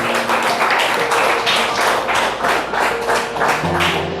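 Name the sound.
congregation applause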